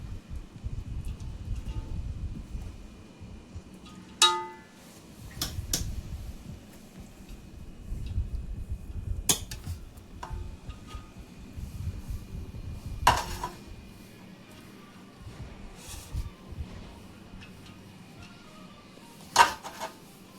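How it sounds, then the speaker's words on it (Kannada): Partly cooked rice is scooped into masala for dum biryani: a few sharp clinks of a metal spoon against a pot stand out over soft, intermittent scraping and rustling, close and fairly quiet. "ಮಸಾಲೆಗೆ ಫಸ್ಟ್ ನಾನು ಅನ್ನ ಹಾಕ್ತಾ ಇದ್ದೇನೆ"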